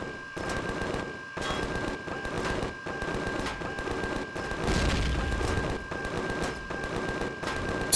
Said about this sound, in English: Something just blew up on my ship.